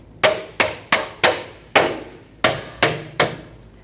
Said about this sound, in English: take a rubber mallet.